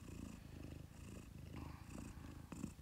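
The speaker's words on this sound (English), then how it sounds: "No, she's happy. Yeah, she's happy. Purring." A contented mother Siberian cat, nursing her kittens, purrs steadily in a low rumbling rhythm, close and continuous throughout.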